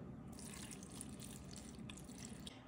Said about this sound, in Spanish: le vamos a estar agregando un poquito de agua.